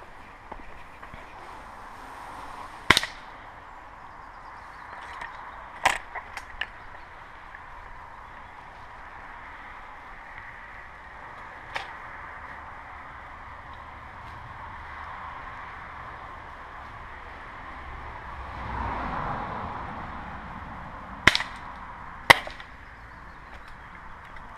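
Sharp, isolated gunshot cracks ring out at irregular intervals, some in quick pairs, over a faint steady background hum, with no voices.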